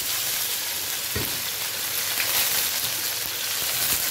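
Bay leaf and panch phoron spices crackling in hot oil, a loud, dense sizzle close up with a few sharp pops and stirring knocks, no voices.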